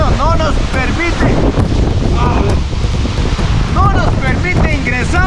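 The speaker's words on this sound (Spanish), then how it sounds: "Es el aire que sopla demasiado, hasta te puede hacer caer." Strong wind gusts roar continuously into the microphone beside a waterfall in Huancavelica, Peru, a heavy, buffeting rush close and loud, with voices audible through it.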